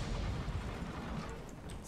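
A single deep, muffled boom of heavy artillery fire from an Object 261 self-propelled gun in World of Tanks rolls out and fades, loud and close, with no voices.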